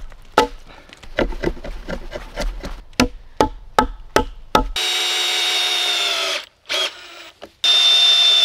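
Short screws driven into wood with a power drill on a homemade container crane: a series of sharp clicks and knocks, followed by a loud sustained drill whine that stops, briefly restarts and resumes, close and without talking.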